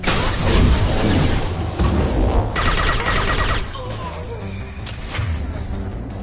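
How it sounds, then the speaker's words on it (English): Heavy gunfire in the Mass Effect 2 video game, dense bursts of shots and impacts hammering loudly before thinning out, with voices speaking over the combat. "Taking heavy fire!"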